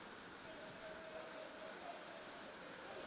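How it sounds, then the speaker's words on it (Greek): Heavy rain pours down steadily during a football match, a dense even hiss lasting throughout with no clear speech. "Η βροχή με μεγάλη ένταση"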